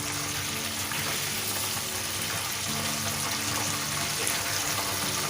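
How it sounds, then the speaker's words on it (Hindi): Breaded chicken for a KFC-style zinger burger frying in a covered pan, a steady, even sizzle and crackle of oil that continues unbroken at moderate loudness. "ये देखिए भैया तकरीबन 10 मिनट हो गए इसको फ्राई होते हुए।"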